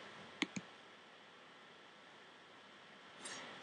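A computer mouse gives two quick, close clicks, then the room goes quiet with only a faint hiss.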